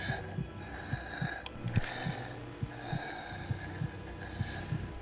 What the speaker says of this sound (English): So that heartbeat you hear means that there's an enemy in close proximity.